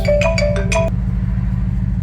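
A mobile phone ringtone plays a short melodic burst of bright electronic notes near a 2017 Ford F150, then cuts off, leaving a steady low engine hum.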